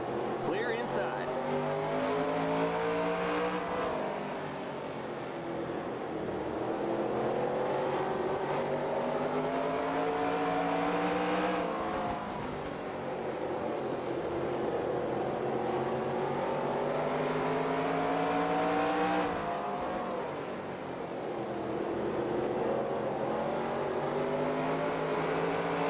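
Race car engine from NASCAR Racing 2003 Season, lapping a short oval. Sustained loud engine drone rises and falls in pitch through repeated upshifts and lifts over roughly 26 seconds, with a voice speaking over it.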